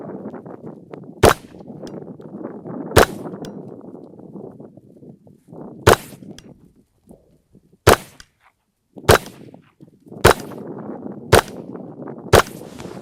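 Rifle shots from a CMMG Dissent MK57 fired at a target, eight sharp loud cracks spaced a second or two apart over steady outdoor background noise.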